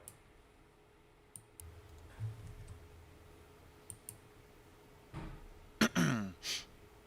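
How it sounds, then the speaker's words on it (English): Typing on a French computer keyboard in a day-trading stream, sparse scattered key clicks that end in a brief louder burst of rapid clattering, with a throat-clear nearby. "You're using that French keyboard, North."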